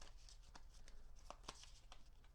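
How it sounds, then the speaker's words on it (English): Hero Realms playing cards being shuffled by hand, a soft papery riffle of several quick flicks close by over a low background hum. "I will shuffle up my deck"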